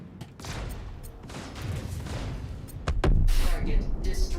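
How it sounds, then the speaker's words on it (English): Size 7 laser cannon firing in a space combat video game: a dense run of loud, rapid blasts rising in intensity toward the end, close and sustained with no gaps. "Don't sit still when I've got a size 7 laser cannon."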